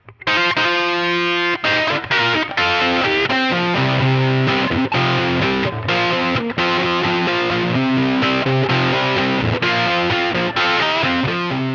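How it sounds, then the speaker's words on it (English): Overdriven electric guitar through a small Brown Deluxe-style tube combo amp, playing loud, chunky rock riffs with sustained crunchy chords and short pauses. "the Brown Deluxe can get some pretty hefty rock tones"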